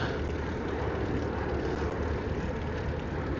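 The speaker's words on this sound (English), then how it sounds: "Wind is definitely blowing against me." Steady, loud wind buffets the microphone while cycling from Queens to Manhattan, a constant low roar with no pauses and no voices.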